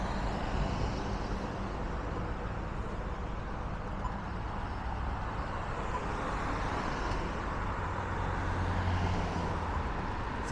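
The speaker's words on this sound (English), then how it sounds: "Wednesday morning traffic for you." Wednesday-morning city street traffic in Melbourne near King Street, a steady roadway wash of cars with heavier trucks or buses rumbling low, continuous and fairly distant, with no talk over it.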